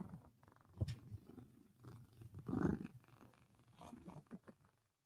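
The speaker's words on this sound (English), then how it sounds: "Can you hear her purr?" A pet cat purrs softly in a low, rumbling texture, with a slightly louder swell near the middle, close and faint throughout.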